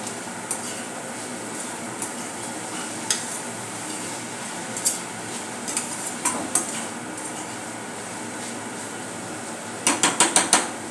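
A spoon stirs Schezwan fried rice sauce in a metal pan, making irregular scraping and clinking strokes over a low hiss, with a quick burst of sharp clatters near the end.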